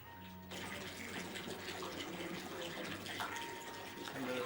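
Water gushes steadily from a tap into a bath being drawn in a dressing room at Warwick Castle, starting abruptly after a short quiet moment and continuing as a constant rushing flow.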